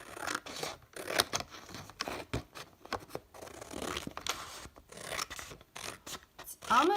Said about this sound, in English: I'm guiding the scissors and I'm moving my hand as I go